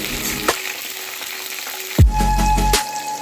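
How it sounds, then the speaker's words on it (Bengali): Whole broad beans sizzle loudly in hot mustard oil in a wok, a steady, close frying hiss with a brief stir and a sharp clatter partway through. "এইবারে আমি শিমগুলো ভেজে নেব।"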